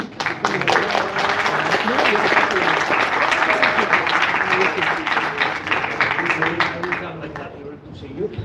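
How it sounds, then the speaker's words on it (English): An audience gives sustained welcoming applause, loud, even clapping that holds for several seconds before tapering off near the end. "This is the part that you applaud, okay?"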